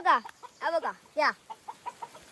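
A rooster clucks close by in a run of short calls, a few loud strained notes followed by softer, quicker clucks.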